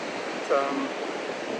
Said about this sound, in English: Hear the waves behind me